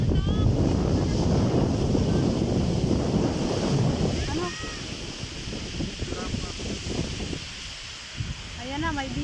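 Broad rushing surf noise at a beach in San Juan, Batangas, with wind buffeting the microphone, people talking and calling over it, and faint bird cries near the end.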